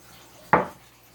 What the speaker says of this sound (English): what we're going to do is stir in the chocolate chips, all of them.